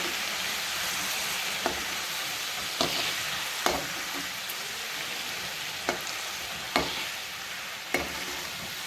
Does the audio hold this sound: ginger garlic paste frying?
yes